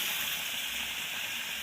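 Fish fries in a pan with a brief, steady sizzling hiss that holds evenly and stays moderately loud throughout, with no talk.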